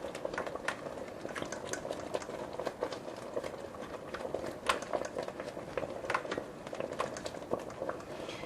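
Licorice caramel boiling in a pan while a flat utensil stirs it across the bottom, giving a steady bubbling, crackling simmer with scraping strokes, close and continuous without talk.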